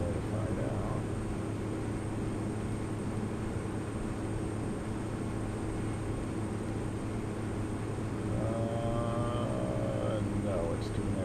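Steady propeller-turbine drone of a Carenado Pilatus PC-12 in the X-Plane flight simulator, a continuous loud cockpit hum with a brief higher-pitched tone near the end.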